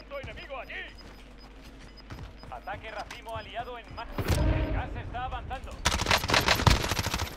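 Gunfire in Call of Duty Warzone: rapid automatic bursts and sharp shots, growing louder toward the end, under someone talking in Spanish throughout.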